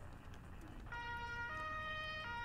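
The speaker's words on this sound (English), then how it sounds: "Turn on my siren and my lights." A loud, steady electronic fire-truck siren in a fire department simulator game switches on abruptly and wails continuously with a stable tone, alone without any talk.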